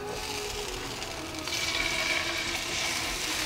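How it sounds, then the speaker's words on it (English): Salmon pieces fry in a pan with a steady, crackling sizzle that stays constant throughout and grows a little louder midway, with no voices. "now I'm going to fry the rest of the fishes"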